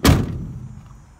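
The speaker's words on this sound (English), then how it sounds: "Heavy doors, though." A heavy steel door on a diesel Dodge Sprinter van at a junkyard swings shut with a single deep, solid thud that fades quickly into quiet.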